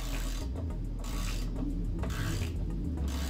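A ratcheting wrench clicks in three steady bursts as a wiper arm nut is tightened on a Chrysler Town & Country or Dodge Grand Caravan, close up, with low mechanical rasping between strokes.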